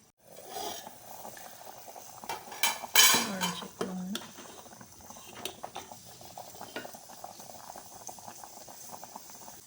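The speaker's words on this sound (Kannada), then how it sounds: "ಸಾಂಬಾರು ಚೆನ್ನಾಗಿ ಕುದೀತಾ ಇದೆ, ಒಂದು ಅರ್ಧ ಕುದಿದೆ." A pot of sambar made with sprouted green gram, seasoned for a Karnataka-style meal, simmering with a soft bubbling texture, broken by a few clanks of a ladle or spoon against the metal pot midway; no voices.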